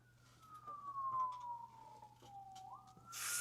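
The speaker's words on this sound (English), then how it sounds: "Fucking sirens." An emergency siren wails outside, a faint, distant tone sliding slowly downward before rising again, with a steady low hum underneath and a burst of broadband noise at the end.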